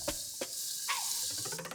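Onions cooking in olive oil in a soup pot give a soft, steady sizzle, broken by a few light taps and scrapes, close and fairly quiet with no talking.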